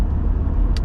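A car driving on a road toward Manchester Airport, heard from inside as a steady low rumble of engine and tyres, with a brief click at the end.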